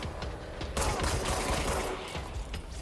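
Enemy gunfire in a first-person shooter game sounds as a dense, sustained burst of rapid shots over busy game noise, fairly loud, with no talking.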